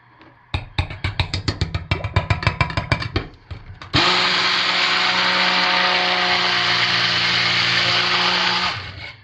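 A blender mixes a batch of cold process soap, starting in a series of quick stuttering pulses that give way to a loud, steady, high-pitched whir. The whir runs continuously for about five seconds before cutting off.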